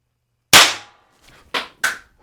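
Sharp, loud shots from a less-lethal derringer: one crisp crack, then a faint tap and two more quick snaps in close succession, each decaying fast in an otherwise quiet space.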